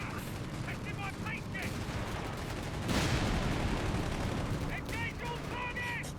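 Tank cannon and bazooka fire in the Company of Heroes 3 strategy game: a continuous rattle of gunfire with a louder blast near the middle, and a caster talks over the battle.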